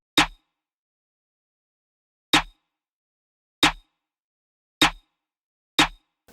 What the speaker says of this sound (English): I came up with this very simple drill snare pattern